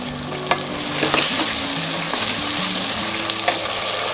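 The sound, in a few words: onions frying and being stirred in a pan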